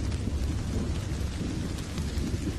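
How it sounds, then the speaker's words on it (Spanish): A thunderstorm pours down heavy raindrops in a steady, dense roar, with low thunder rumbling underneath throughout, close and unbroken. "Las tormentas producen vientos desapacibles y descargan sobre las mariposas"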